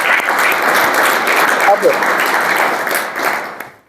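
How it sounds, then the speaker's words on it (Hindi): An audience at a talk event gives a guest a burst of steady, enthusiastic applause that fills the room and fades toward the end, with a voice briefly heard. "तो एक बार जोरदार ताली गुरु जी के लिए देता है।"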